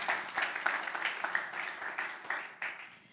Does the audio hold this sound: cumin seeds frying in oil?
no